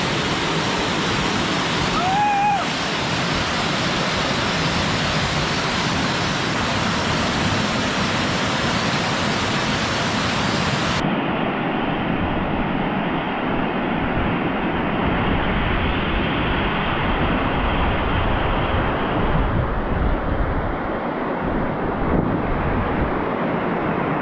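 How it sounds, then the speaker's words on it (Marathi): Kuderan waterfall in untouched jungle roars with forceful, rushing water in a loud, unbroken wash that fills the whole stretch, a brief high tone cutting through early on. "जबरदस्त फोर्स आहे पाण्याचा."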